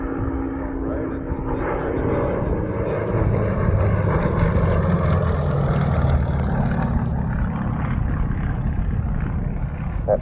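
A Nanchang trainer aircraft fitted with an M14P radial engine flies past at an airshow, a loud rough droning roar that swells and fades across the pass and drowns out voices.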